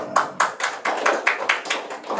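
Clapping from an audience at an official education program launch in Sorong, a steady run of about nine distinct, fairly close claps in even rhythm.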